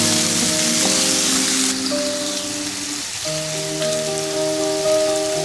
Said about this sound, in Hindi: दो 3 मिनट इनको फ्राई करेंगे सब्जियों को।